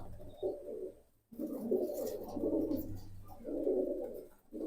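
Jobra pankhi pigeons coo close by in low, throaty bursts that repeat every second or so. Quiet otherwise.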